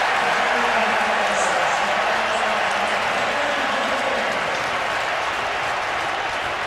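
A football stadium crowd in Philadelphia roars and applauds in a loud, sustained, dense wash of noise that holds steady throughout, with an indistinct voice faintly mixed in.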